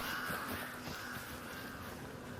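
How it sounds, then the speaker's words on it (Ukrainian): In the video game Arc Raiders, a faint, steady ambient bed carries soft, distant bird cawing calls, quiet and somewhat masked. "Голубі, які каркають. Це просто прекрасно."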